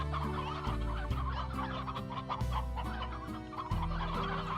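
Hens clucking in the Slime Rancher video game, a run of short, rhythmic clucks repeating close and steady over a quiet background, with no voices.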